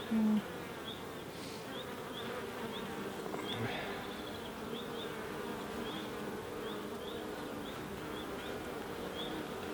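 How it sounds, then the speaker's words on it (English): Dense, steady buzzing of many honeybees close by at a vandalised hive in the UK, a continuous hum with occasional louder passes of individual bees. "There's a lot of bees coming into this now."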